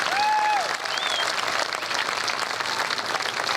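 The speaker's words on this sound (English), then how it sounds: "Let's give them another great round of applause." Crowd applause rises at the Pebble Beach Concours d'Elegance car show, a steady wash of clapping after a brief amplified tone, moderately loud and continuous.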